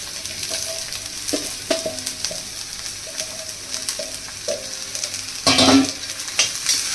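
Grated cauliflower frying with spices in a pan for gobhi paratha: a continuous close sizzle broken by scraping stirs and a louder burst of crackle near the end.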